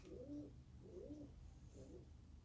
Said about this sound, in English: a turtle dove and 2 pigeons.